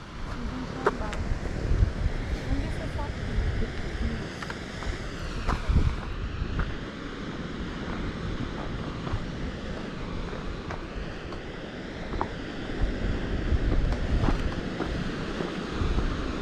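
Ocean waves wash onto a beach in a steady, loud roar mixed with gusting wind noise on the microphone.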